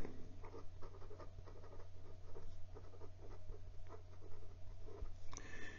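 A Penbbs 355 fountain pen scratches across paper in reverse strokes, giving a dry, rasping scrape with short broken pulses close to the mic. A steady low hum runs beneath it throughout.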